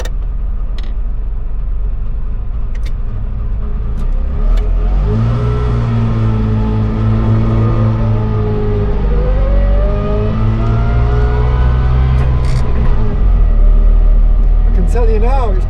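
A two-stroke car engine strains up a hill, short of fuel, droning loudly and climbing in pitch as it labours and revs, then dropping off near the end, with brief clicks at the start and finish.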